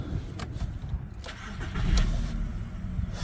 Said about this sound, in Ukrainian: а двигун працює взагалі як годинничок